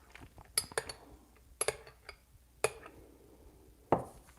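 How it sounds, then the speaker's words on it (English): A spoon stirring a shot of espresso in a small cup, heard as several sharp, close metallic clinks spaced out over a few seconds, ending with a louder clatter, with no talking. "I'm just gonna stir it."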